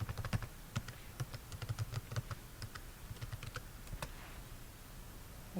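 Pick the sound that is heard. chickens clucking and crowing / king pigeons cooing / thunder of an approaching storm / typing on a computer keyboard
typing on a computer keyboard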